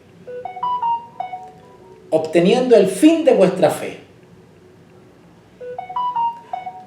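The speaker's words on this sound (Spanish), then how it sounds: "Me distraigo yo con los sonidos del teléfono" A telephone plays a short stepped melody of electronic tones, then falls quiet while a voice speaks, then repeats the same tone pattern; the phone is fairly close and clear.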